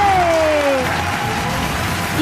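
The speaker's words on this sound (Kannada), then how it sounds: "ಜಬರ್ದಸ್ತ್ ಚಪ್ಪಾಳೆ" A game show studio audience clapping together, a dense, even wash of applause heard close and loud throughout, with a sustained tone sliding downward at the start.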